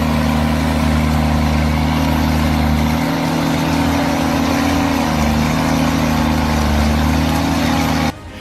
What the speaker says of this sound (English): This Mercedes logging truck with 6-cylinder inline diesel engines with turbocharger and intercooler is fully loaded and struggling to be driven on this uneven pathway.